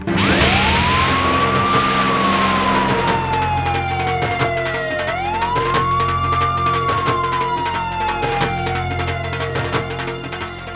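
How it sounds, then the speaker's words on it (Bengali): A police siren wails close by, its pitch sweeping up and slowly down in long repeated cycles, loud and dominant over faint background noise. "পুলিশের গাড়ির শব্দ শুনছস? পুরো রূপনগর চষে বেড়াচ্ছে পুলিশ"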